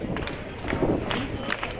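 Protesters at a Black Lives Matter rally near the US embassy in Paris sing and clap from a distance, a diffuse crowd murmur with scattered claps and shouts throughout.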